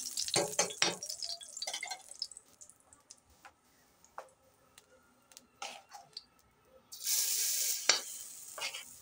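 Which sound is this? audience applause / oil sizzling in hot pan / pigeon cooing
oil sizzling in hot pan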